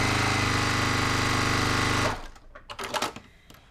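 A sewing machine runs at full speed for about two seconds, stitching through quilting fabric to trim off the selvage, loud and steady before stopping abruptly, followed by a few faint clicks and handling noises.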